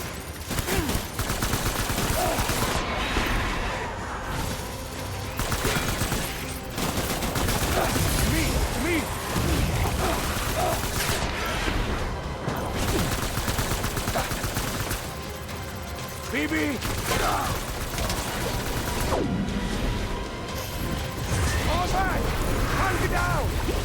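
Sustained bursts of rapid gunfire and explosions from the video game Death Stranding Director's Cut, loud and continuous, with talk mixed in at times.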